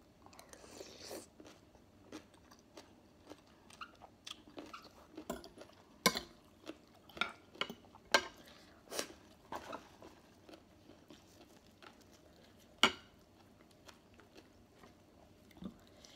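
Close, crisp crunching and biting while eating Thai som tam papaya salad with khanom jeen rice noodles and fresh vegetables, irregular bites and chewing with light clinks of utensils, no talk.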